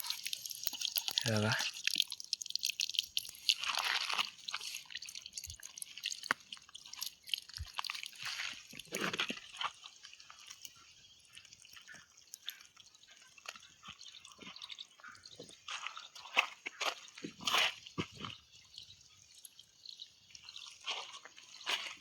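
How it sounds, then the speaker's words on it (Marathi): Water begins trickling and dripping from a newly opened tap in an outdoor setting, faint irregular drips and splashes, while a person talks over it at intervals. "आता पाहू शकतो मी इकडं पाणी यायला सुरू झालंय"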